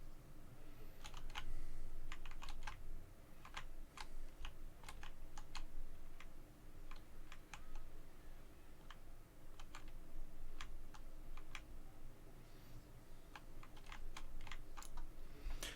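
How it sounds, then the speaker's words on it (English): Computer keyboard keys mashed near the shift key in rapid, irregular clusters of sharp clicks and taps, steady over a low background hum, close and with no talk. "mashing the keys in the corner of the keyboard near the shift key"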